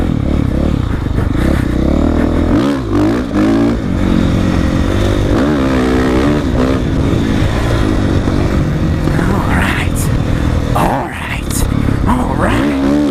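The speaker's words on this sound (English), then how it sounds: "Get on the bike." A motocross bike's engine roars loud and close during a ride, its pitch repeatedly rising and falling as the throttle opens and eases, with constant wind rush.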